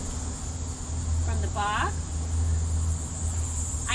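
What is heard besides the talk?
honeybees buzzing in a hive box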